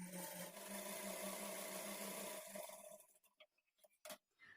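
A sewing machine stitching a blouse lining at a quarter-inch margin, running in a steady whirring burst for about three seconds, then stopping, followed by a few scattered clicks and fabric handling sounds, no voices.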